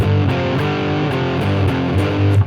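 A blues rock electric guitar in drop tuning plays chords through a heavily dirty, nasty distortion tone, loud and sustained with rhythmic re-strikes and no voices.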